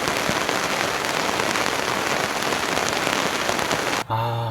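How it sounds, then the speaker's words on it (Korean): Steady, dense rain patters outside a camper van, an even hiss of drops on the roof and surfaces that continues without pause until cut off by a brief different sound at the end. "밖에는 비가 옵니다."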